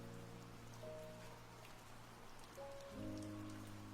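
Steady, soothing rain pattering on a surface, continuous and even throughout, with low sustained tones running beneath the rainfall.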